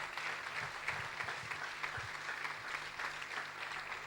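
Congregation clapping in a church service, a steady sustained wash of many hands at moderate distance, fairly quiet, with faint voices or music underneath.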